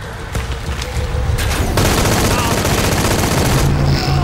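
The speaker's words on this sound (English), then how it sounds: "I'm supposed to keep shooting him until he do the exploding kami heart" Rapid automatic gunfire in the video game Shadow of the Tomb Raider, loud sustained bursts with booming impacts that grow denser and keep going almost without pause.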